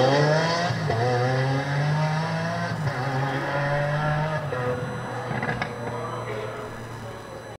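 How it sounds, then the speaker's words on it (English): Lego Technic Lamborghini Sian display at an auto show playing recorded V12 engine sounds: revving tones rising and falling in sweeps, squeals and race-car roars, fairly loud with a voice speaking over it. "the car makes all kinds of beautiful V12 Lamborghini noises"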